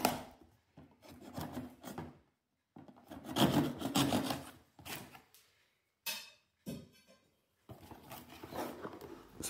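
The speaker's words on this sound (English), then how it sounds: "So I'm just going to grab a knife here to cut these open." A knife slicing through the sealed security tag and cardboard of an EE Smart Hub Pro router box, heard as close, quiet scraping and rasping strokes in several short bursts separated by brief pauses, with no talking.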